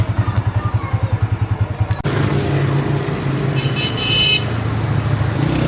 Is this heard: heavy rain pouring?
no